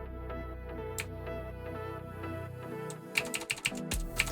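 Computer keyboard keys click faintly in scattered taps, then a quicker burst of sharper clicks near the end, over a low steady hum.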